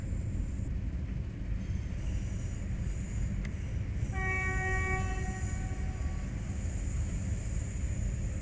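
A BR406 or BR612 locomotive in Train Sim World, with a steady heavy rumble of the running train and a sustained multi-tone horn blast that starts partway through and holds to the end.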